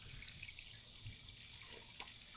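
Fresh water flushes steadily through the outboard motor of an aluminum boat, a continuous hissing, splashing stream close by with a few faint drips and clicks and no talking.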